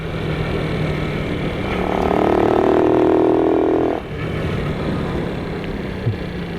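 Motorcycle engine running loud and close, rising briefly under throttle for about two seconds, then cutting out abruptly when released, leaving only quiet outdoor ambience.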